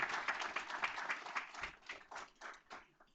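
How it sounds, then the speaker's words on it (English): Audience at a board meeting giving a round of applause, fairly faint and somewhat distant, a moderate crowd clapping steadily before thinning into scattered claps and fading out. "Let's give a round of applause."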